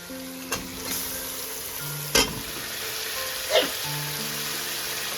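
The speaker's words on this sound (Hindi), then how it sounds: "अब मैं इसमें जो मैंने चिकन धो के रखा था वो मैं इसमें ऐड कर रही हूँ" Washed chicken hits a pan of frying onions with ginger-garlic paste for butter chicken, giving a steady close sizzle with a few sharp clatters of stirring throughout.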